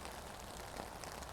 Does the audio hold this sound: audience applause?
no